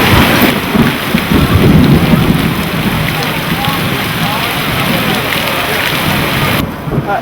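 Heavy rain pours down steadily during an outdoor thunderstorm, with deep rolling thunder swelling in the low end over the first few seconds, loud and close, and no voices.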